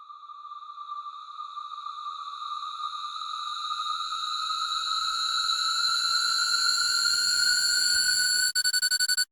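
A synthesized electronic riser for a music track, layered with a sampled tone, climbs steadily in pitch and swells in loudness over about nine seconds, then stutters and cuts out abruptly.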